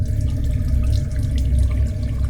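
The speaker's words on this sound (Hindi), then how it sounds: "ना सिर्फ सिंक की बल्कि शावर की भी सारे नलके खुले हैं और पानी गिरना शुरू हो जाता है।" Water runs steadily from open sink and shower taps in a washroom, a continuous close splashing stream with light drips and no voices.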